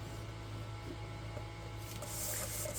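A scoring tool is drawn across paper while an album is made, giving a faint, steady scraping rub in a quiet room.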